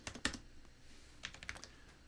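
A value being typed on a computer keyboard: a few quick, quiet key clicks in two short clusters, close and isolated.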